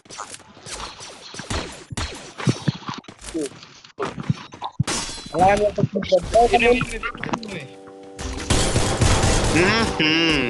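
Rapid bursts of gunfire in a shooting video game, with an M14 rifle and MP40 submachine gun firing in loud clusters and sustained volleys, while a player talks excitedly over the action.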